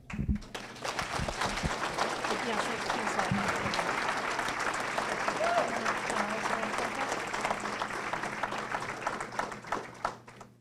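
Sustained audience applause at a 2019 school hall of fame induction ceremony in a hall, a dense steady wash of clapping from many hands lasting about ten seconds, with faint voices mixed underneath.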